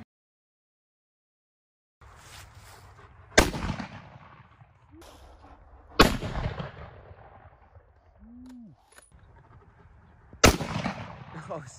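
A .243 rifle fires at targets, three sharp, loud reports spaced several seconds apart, each leaving a ringing tail, with quieter handling noise and a brief low tone between shots and no talking.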